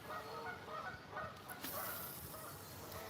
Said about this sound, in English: 300 geese down the river right there are huge competition